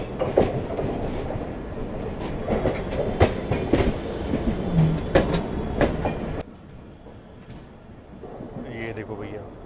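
An AC Express train from Bangalore to Howrah rumbles along the tracks with steady clickety-clack and loud wheel noise, voices talking over it, before the sound drops to a quieter interior hum.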